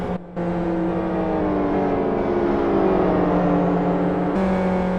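A race car engine drones steadily at high revs, with a brief drop near the start and a pitch shift near the end, like an uneven gear change from an overheated clutch.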